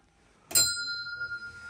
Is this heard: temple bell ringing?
yes